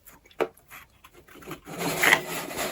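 A Funko cover is pulled from thin cardboard packaging: a sharp scrape, then soft scuffs, followed by a louder, sustained papery rustle and rubbing close by, with no voice.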